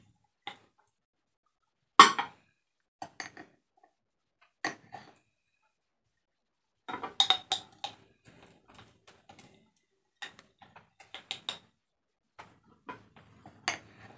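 A spoon scoops thick, creamy honey, giving sparse light clinks and taps of metal cutlery against a jar or bowl, scattered irregularly and close by with quiet gaps between.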